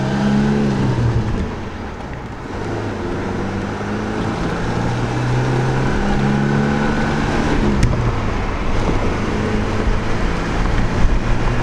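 Ford Ranger pickup truck driving after an ECU swap and reprogramming, its engine droning steadily with a rising and falling pitch as it accelerates, loud and close from inside the cab, with no talk.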